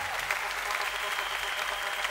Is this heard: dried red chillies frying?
no